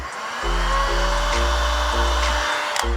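A heat gun warming vinyl wrap on a car body, a steady close blowing whoosh with a low motor hum that cuts out briefly a few times and restarts, no voices.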